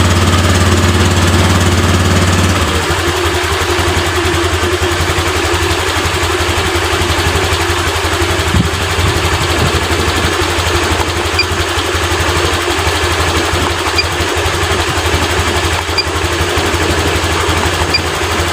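A Honda Vario LED scooter with a fault that makes it stutter and sometimes stall, its engine starting and then idling loudly nearby with a steady, slightly uneven mechanical rumble.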